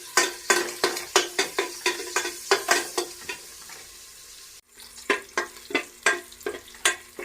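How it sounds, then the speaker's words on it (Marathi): Chopped small onions sizzling and frying in a pan, stirred with a utensil in a steady rhythm of close scraping strokes over a constant hiss, with no talking. "छोटा कांदा लाल परतून घ्यायचा"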